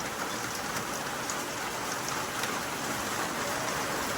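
Heavy rain pouring steadily, a dense constant hiss of drops drumming on surfaces with no let-up.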